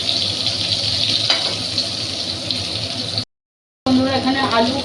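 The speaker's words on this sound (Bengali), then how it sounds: "আলু আর বেগুন একসঙ্গে আমি ভেজে নিচ্ছি" Potatoes and eggplant frying together in a pan give a continuous close sizzle with stirring, cut by a brief silent gap before the frying resumes.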